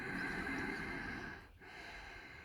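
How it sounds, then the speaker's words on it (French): Slow, audible breath during a yoga exercise for the back, a steady airy exhalation that briefly stops in the middle and then resumes, close and soft with no talking. "N'hésitez pas à ce que votre respiration soit sonore, c'est-à-dire qu'on entende bien."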